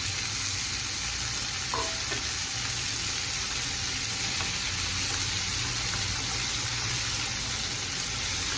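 Cabbage fries and sizzles steadily in a pan for a mixed vegetable curry with peas and tomatoes, a loud, constant crackling hiss close by with no talking.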